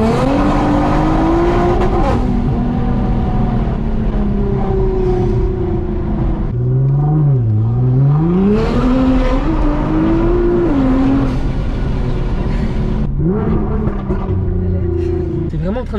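A Nissan GTR accelerates hard, its engine note climbing through repeated surges and gear changes, loud and close as if heard from inside the car, with voices talking over it.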